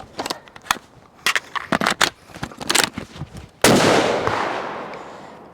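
Ruger American bolt-action rifle shots: a series of sharp, loud reports and clacks, then one big blast around midway whose long, decaying rumble carries through the end of the clip.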